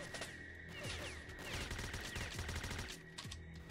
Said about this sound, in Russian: Еще и гранату у нас кинул. Или выстрелил с подствольника.